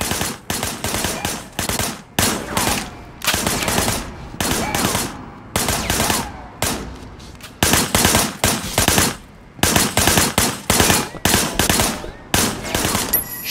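Sustained automatic gunfire in Sleeping Dogs comes in loud rapid bursts separated by short pauses, close and dominant, with no clear talk over it.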